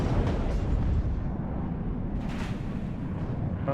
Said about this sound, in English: And an ammo explosion's really not helpful either.